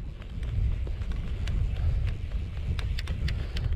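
Strong wind buffets the microphone beside the River Tay while salmon fly fishing, a steady loud rumbling roar with scattered ticks and rustles and no talking.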